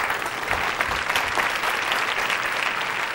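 A dense, steady wave of audience applause at a comedy show casting segment, many hands clapping together without a break, loud and close, with faint crowd murmur underneath.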